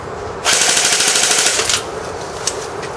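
An airsoft sniper rifle switched to full auto fires one rapid burst of BBs lasting just over a second, a loud, close, fast rattling chatter that stops abruptly, followed by quieter handling noise.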